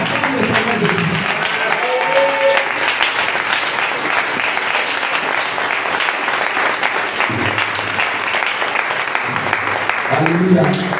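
A church congregation applauds the Lord Jesus with steady, loud, sustained clapping that fills the room throughout, with voices and shouts rising over it at moments.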